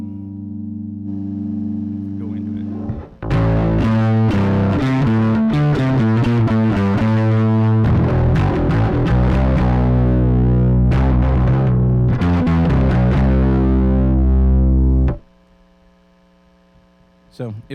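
An electric guitar runs through a Blackstone overdrive pedal set to the extreme edges of its knobs, a loud saturated burst of chords and notes over a constant background hum, rising from quiet hum and ending back in it.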